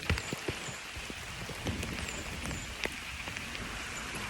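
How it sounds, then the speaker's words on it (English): Heavy rain pours onto a lake during fall bass fishing at Rollins Lake, a steady close hiss of drops on water with scattered sharper drop impacts throughout, no talking. "Pouring down the rain."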